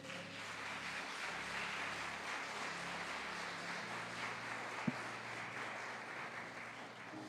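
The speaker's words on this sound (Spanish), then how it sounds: "Denle un aplauso al Rey." Steady applause from a church congregation, an even clapping wash that lasts throughout, fairly distant.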